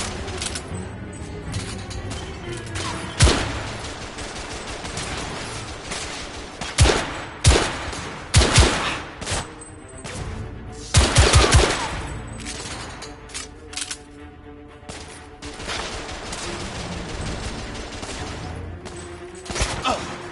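Gunfire in The Order: 1886 cracks out in irregular bursts and single sharp shots, some loud and close, others lighter, spread across a busy firefight with background ambience between volleys.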